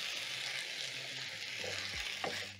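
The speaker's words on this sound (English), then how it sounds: "Toss the carrots together with the tomatoes and the onions." Carrots, tomatoes and onions tossed together in a pan for a beef stew, a low steady sizzle with soft scraping and a brief clatter of stirring near the end.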